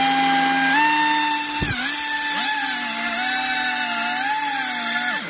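An RC hovercraft, the FLYING3D YL088-c, runs its fan motor at full power on snow, giving a steady high-pitched electric whine with pitch dips and rises as it strains, loud and close throughout with no talk.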